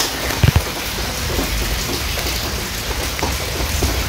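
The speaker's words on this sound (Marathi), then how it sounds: "आवाज येत असेल पाण्याचा किंवा कौलांचं पाणी पडतं इकडे पत्र्यावरून." Steady rain pours down with a dense, even hiss, like water drumming on a metal roof, with a couple of heavier thuds near the start.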